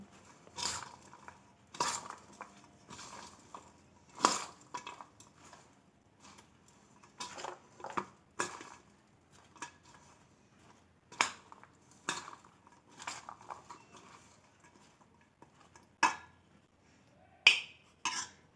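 A spoon scraping and clinking against a bowl while fresh turmeric pickle is mixed, in repeated sharp metallic taps at an irregular rhythm, close up in a quiet kitchen.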